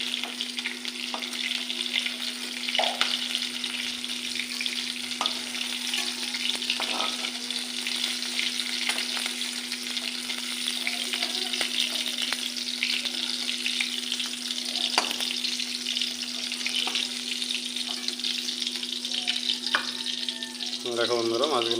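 Shrimp rubbed with salt and turmeric fry in oil in a wok, a steady bright sizzle running throughout with occasional clicks of stirring and scraping, no voices.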